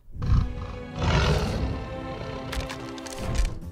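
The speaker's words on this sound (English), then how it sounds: "having authentic sounding tiger growls is crucial for the realism of the scene" Deep, rough tiger growls and roars for a jungle fight scene, several snarling bursts in close succession, loud and close with no talk.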